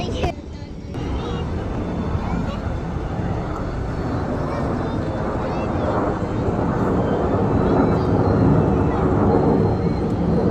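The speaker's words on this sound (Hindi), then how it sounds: "यहाँ देखिए ये 4 जहाज़ एक साथ माशाल्लाह एक ही लाइन में" Several airplanes flying together in formation over an air show, their broad engine roar loud and steady throughout, with crowd noise and people talking nearby.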